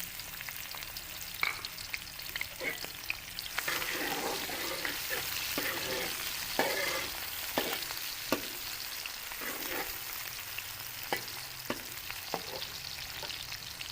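Big slices of onion fry in hot ghee with a continuous crackling sizzle, punctuated by sharp scraping clicks from stirring throughout.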